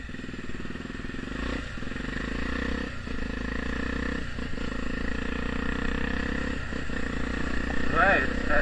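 Honda Tornado motorcycle fitted with a Protork exhaust idling nearby, a steady low rumble with small regular pulses, while someone talks over it.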